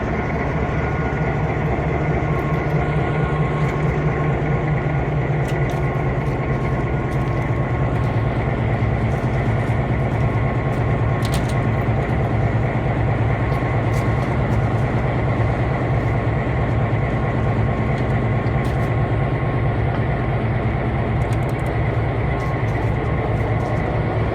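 A train rumbles steadily along the tracks, a dense continuous roar of engine and wheels with faint rattles and clicks, loud and unbroken throughout.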